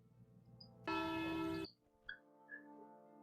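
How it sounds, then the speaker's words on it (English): Church bells in Medieval II Total War, a bright, sustained metallic peal that rings for under a second, cut by brief tonal chimes and faint game effects in an otherwise quiet scene. "The church bells are ringing."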